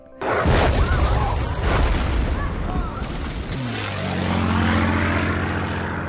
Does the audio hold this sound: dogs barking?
no